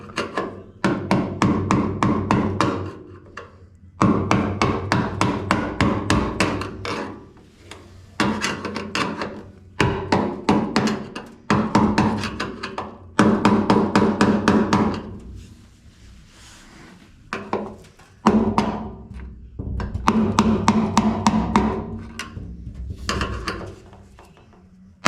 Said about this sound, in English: you just tap it with the screwdriver, something flat, and you just go around until it loosens up